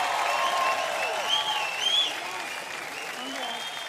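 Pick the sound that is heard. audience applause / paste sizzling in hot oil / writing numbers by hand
audience applause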